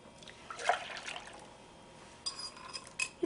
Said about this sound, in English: Pour the sauce in a saucepan.